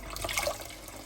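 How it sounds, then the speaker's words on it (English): Water pouring into a cooking pan for pasta, a brief soft splashing rush lasting about a second, quiet and close with no talk. "We'll pour some water straight in the pan."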